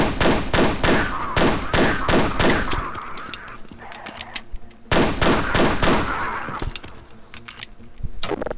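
Pistol shots fire in rapid bursts in the video game Half-Life: Blue Shift, loud and close, with two clusters of sharp cracks separated by brief quieter gaps.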